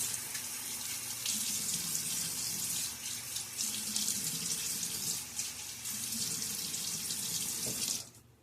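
Tap water runs steadily from a faucet into a sink as a face is wetted before a wet shave, a continuous close splashing wash that cuts off abruptly near the end.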